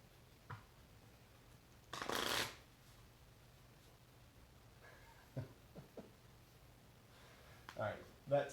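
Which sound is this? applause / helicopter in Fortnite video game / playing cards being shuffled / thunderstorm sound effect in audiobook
playing cards being shuffled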